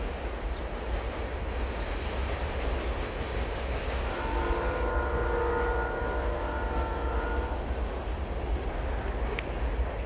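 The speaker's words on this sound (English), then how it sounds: "And you can hear a train. I see the train." A passing train heard from the woods: a steady rumbling roar across the whole stretch, with a sustained metallic whine rising through the middle. It is moderately distant and there is no talking.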